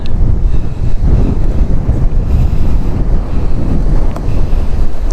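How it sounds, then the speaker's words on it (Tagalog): Strong gusting wind buffets the microphone on a motorcycle trail ridden on a Kawasaki KLX, a loud, constant low rumble that swells and dips without pause. "Bakit ang lakas ng hangin."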